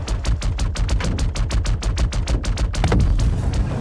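Rapid, steady automatic gunfire in Star Citizen shredding a buggy, a loud unbroken stream of evenly spaced shots lasting several seconds.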